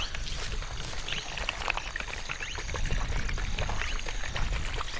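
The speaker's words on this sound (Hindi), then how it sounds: "देखो उसमें से पानी की आवाज़ आ रही है" Water pours steadily out of an irrigation pipe on a farm, a continuous broad rushing splash with no talk over it.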